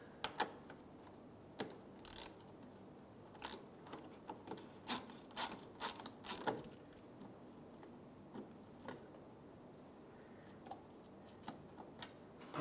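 A ratchet backs out a 7mm screw behind a fog light hole cover on a 2013-2020 Nissan Pathfinder, giving faint, scattered mechanical clicks and ticks in short irregular bursts against a quiet background.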